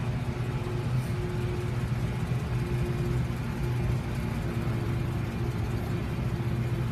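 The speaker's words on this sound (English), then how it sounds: "A rough upshift from the transmission." A 1999 Chevrolet 3500 work truck engine drones steadily and close, a continuous even rumble with no distinct shift or surge standing out.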